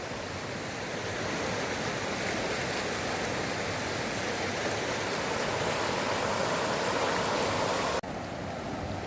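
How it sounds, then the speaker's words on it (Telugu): The Godavari river rushes fast below a dam, a loud, dense, continuous roar of churning water heard up close, unbroken and without voices. "చూడండి ఎంత ఫాస్ట్గా పోతుందో గోదావరి అయితే."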